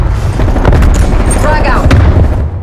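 Grenade thrown and detonating during a Call of Duty: Black Ops Cold War multiplayer match, a dense booming blast wash with scattered gunfire throughout, loud and continuous, with radio-style voice callouts underneath.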